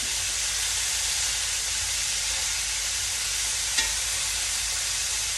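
A hamburger patty sears on a hot grill, giving off a steady, even sizzle that holds without a break. There is one small tap partway through and no talking.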